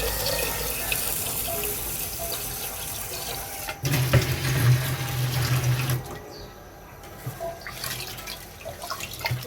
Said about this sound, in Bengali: এখন চাল ধুয়ে নেব।